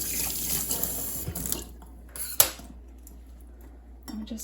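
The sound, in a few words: washing leek roots under running water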